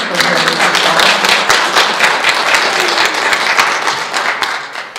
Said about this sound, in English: Can we give her a little round of applause for her?